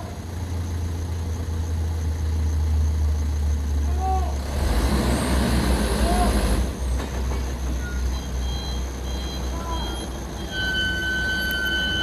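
Shacman trailer truck engine droning loud and steady while climbing a hill, a deep low rumble under brief hissing and faint beeps, with a rise in noise midway.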